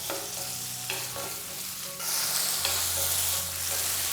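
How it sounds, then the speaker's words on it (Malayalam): Chopped tomatoes sauté in a hot pan for a Kerala-style idli kurma, sizzling steadily with a few scraping stirs and a louder burst of frying midway, no voices. "തക്കാളിയും ചേർത്ത് കൊടുത്തതിന് ശേഷം നല്ല രീതിയിൽ തന്നെ വീണ്ടും ഒന്ന് വഴറ്റിയെടുക്കുകയാണ്"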